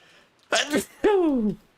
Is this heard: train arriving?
no